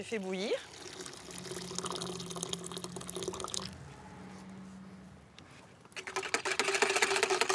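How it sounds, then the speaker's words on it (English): Boiling water is poured onto plant leaves being steeped for a blue dye, with fructose added. Splashy, dripping pours come close and fairly loud in two bursts separated by a quieter stretch. "I'm going to pour boiling water onto it."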